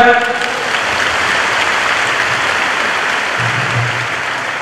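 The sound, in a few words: audience applause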